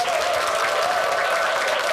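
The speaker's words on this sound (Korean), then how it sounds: "큰 박수로 맞이해 주십시오." A studio audience at a Korean televised lecture on children's play claps loudly to welcome the lecturer, a dense, continuous wash of applause that stays at full strength throughout.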